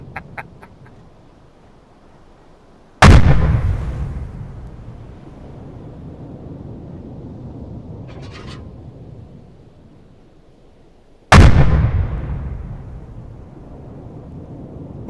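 Two loud, booming blasts from a U-boat deck gun in the UBoat video game, each a sharp crack followed by a long rumbling decay, spaced about eight seconds apart over faint sea and wind ambience.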